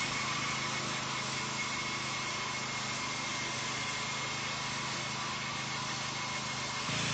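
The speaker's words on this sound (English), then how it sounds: "Because the BCS tractor is all gear driven, this is a great mower for slopes." A BCS gear-driven walk-behind tractor with a 26-inch mower deck runs steadily throughout, a continuous close engine drone with a slight rise near the end.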